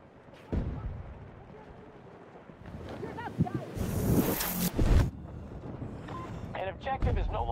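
Gunfire and artillery blasts ring out in a Battlefield 2042 match on the Stranded map, with scattered booming impacts and bursts of shots mixed with game announcer voice lines and chatter.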